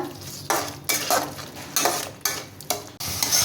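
Spice paste with a pinch of sugar sautéed in oil in a pan, loud close spatula strokes scraping the metal in an irregular rhythm over a continuous sizzle.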